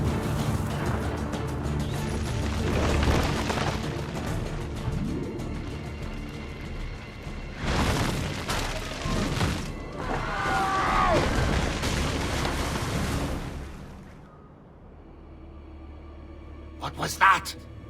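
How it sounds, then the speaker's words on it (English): Scattered bangs like firecrackers go off in the Assassin's Creed 2 video game, with a few loud bursts spread through the scene. Voices and background ambience from the game run alongside them. "Probably just kids with firecrackers."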